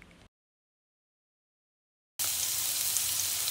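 Garlic sizzles steadily in hot olive oil in a pan, a loud, dense frying hiss that starts abruptly after a short silence and holds constant to the end.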